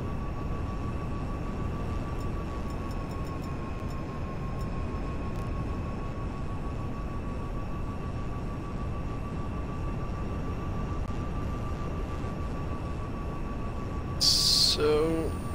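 Steady droning hum of an airplane flying in GTA V, a continuous engine tone held at an even level throughout, with a brief sharper burst near the end.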